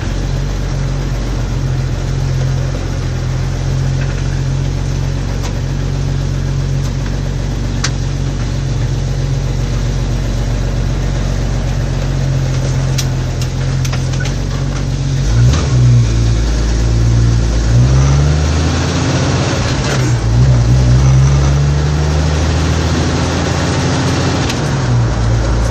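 A cold Jeep Wrangler engine runs steadily while backing out of a driveway, a loud, close low rumble with shifts in pitch and revving midway.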